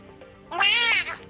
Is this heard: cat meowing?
yes